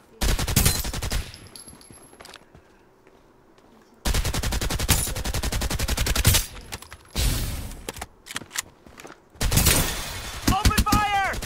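Bursts of rapid automatic gunfire from the shooter game Farlight 84, loud and close, in several separate volleys with short pauses between them, each volley dense and rattling.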